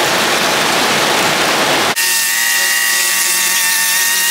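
Power sanding of custom vehicle door panels, a loud continuous gritty roar that abruptly shifts to a thinner, tonal whine partway through, with no voices over it.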